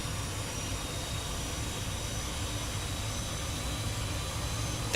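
A Fokker 28 jet engine in Microsoft Flight Simulator runs as a steady, even roar and hiss that holds level for the whole stretch with no talking.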